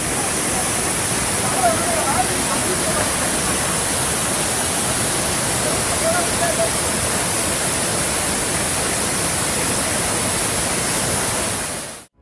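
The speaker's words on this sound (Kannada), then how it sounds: "ಕನ್ನೆಗುಂಡಿ ಎಂದು ಕರೆಯಲ್ಪಡುವ ಈ ಮಿನಿ ಜಲಪಾತವನ್ನ ಭಟ್ಕಳ ಪಟ್ಟಣದ ಮಂದಿ ಗಾಂಧಿ ಫಾಲ್ಸ್ ಎಂದು ಕರೆಯುತ್ತಾ ಬಂದಿದ್ದಾರೆ" A small monsoon waterfall, Kanyegundi near Bhatkal in Uttara Kannada, set among hillside trees and plantations, gives a steady, dense rush of falling water that stays close and even for the whole stretch before cutting off.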